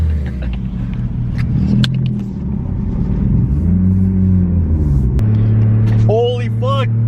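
A 1997 JDM Toyota Chaser with a 1JZ-GTE engine drives on a road, its steady loud cabin rumble shifting in pitch as it runs, with brief voice sounds near the end.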